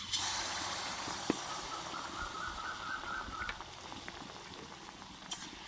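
Spoonfuls of batter for suji pitha hitting hot white oil in a wok, a steady fizzing sizzle with bubbling crackle that stays fairly quiet throughout.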